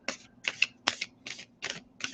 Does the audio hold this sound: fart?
no